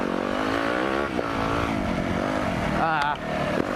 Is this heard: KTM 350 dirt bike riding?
yes